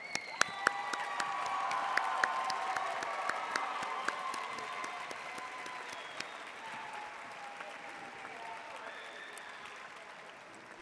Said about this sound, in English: Let's give this class one more round of applause.